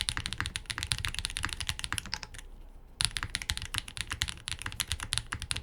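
Rapid clacky typing on an Iqunix Tilly 60 mechanical keyboard with plate foam, close and bright, with a brief pause midway before the keystrokes resume at a steady pace.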